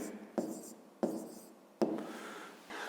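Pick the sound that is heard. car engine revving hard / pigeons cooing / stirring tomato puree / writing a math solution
writing a math solution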